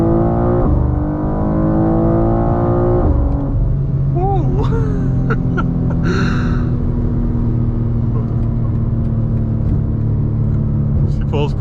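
A BMW G87 M2 running an M2CS tune pulls hard under full throttle, its engine note climbing steadily with loud rising harmonics and abrupt, aggressive gear shifts breaking the sweep, a voice speaking over the continuous close rumble.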